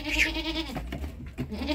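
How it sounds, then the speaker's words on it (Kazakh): Young goat kids bleating up close, a couple of short wavering bleats in quick succession, loud and clear with no talk. "Өте әдемі лақтарды."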